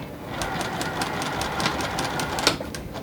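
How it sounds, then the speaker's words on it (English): Sewing machine stitching a pleat on a puff quilt, with a steady run of rapid needle clatter and a few louder ticks, fairly close and heard alone. "I'm gonna set it under the machine right here, I'm going to sew"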